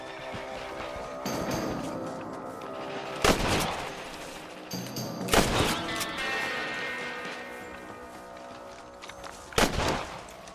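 Rifle shots ring out in the Western video game Red Dead Redemption: three loud, sharp reports spaced a couple of seconds apart, each with a booming tail, over a quiet ambient background.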